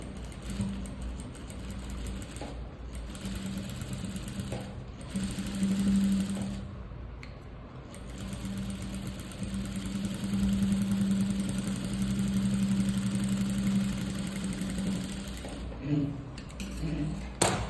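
Sewing machine stitching thread piping onto canvas: a steady close mechanical whir with a low hum, running nearly continuously with a few brief pauses, while a voice talks over it.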